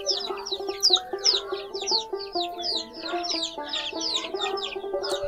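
A brood of local deshi chicks peep constantly in rapid, high-pitched chirps, with lower clucking from a hen or chickens mixed in, close and busy throughout.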